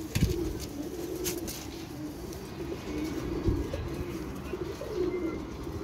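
Pigeons kept for flying at a pigeon-racing (kabootar bazi) gathering in Pakistan, heard as soft low cooing and bird calls over steady outdoor background noise, with no speech.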